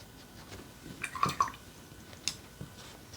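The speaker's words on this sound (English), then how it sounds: "rinse my brush, dab it" A watercolor paintbrush swishes and taps in a water jar, giving a few soft drips and splashes in short bursts, close and fairly quiet.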